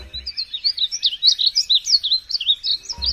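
A small songbird with bright yellowy-green plumage sings a continuous, rapid, warbling chirp, loud and close, with lively repeated trills and no other sounds.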